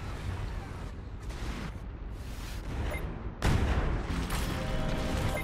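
Weapons fire in the video game Anno 2205 rumbles as a dense roll of booms and blasts, with a heavier explosion partway through and continued distant battle noise, while a voice talks quietly beneath it.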